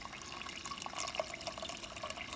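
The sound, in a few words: hot water poured over meat in a pot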